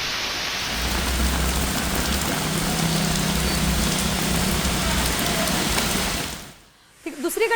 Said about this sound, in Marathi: पुण्यात सकाळपासून संततधार पाऊस पडताना दिसतोय